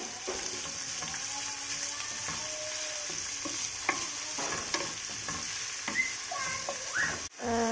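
Red pepper and greens stir-fried in hot oil for breakfast, with a steady close sizzle running throughout and irregular scraping and clicking of the stirring utensil on the pan, ending in a brief louder clatter.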